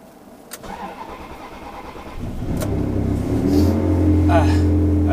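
A Ferrari 360 Challenge Stradale fires up with a starter crank, then its engine catches and rises into a loud, close rev before settling into a rough idle, with a voice heard over it.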